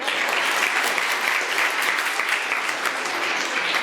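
A large audience applauds steadily and evenly throughout, a dense continuous wash of clapping with no voices over it.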